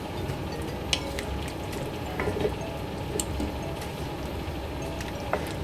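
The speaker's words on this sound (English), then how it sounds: "Just going to stir those in." Sweet potato chunks being stirred into a pot of Jamaican brown stew beef, a gentle bubbling simmer with soft scraping and occasional spoon clinks against the pot.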